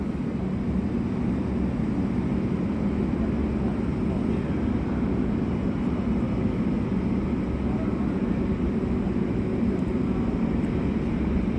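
Steady broadband roar of an airliner at an airport, a continuous engine rumble holding level throughout at moderate distance with no talk.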